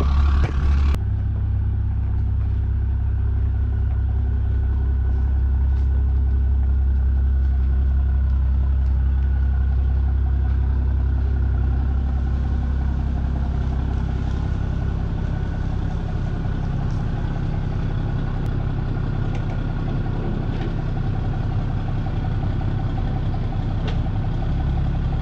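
A Cummins 6.7 diesel engine in a quad cab long bed pickup idles close by in cold weather. It gives a steady, loud, low rumble that runs unbroken throughout, with no talking over it.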